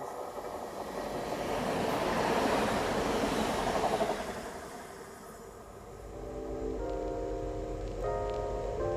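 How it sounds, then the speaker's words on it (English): A train rumbles through Morley Station close by, building to a loud roar of wheels and rushing noise, then easing as a steady tonal hum settles in. "Oh, and I think a train's coming through."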